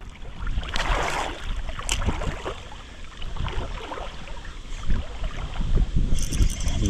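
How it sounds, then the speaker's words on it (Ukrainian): Strong wind gusts roar across the microphone beside a river, a loud, continuous rushing that swells and eases without pause. "Дивіться просто, який вітроган у мене тут піднявся."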